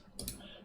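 A single computer mouse click, short and close, quiet against a faint room background.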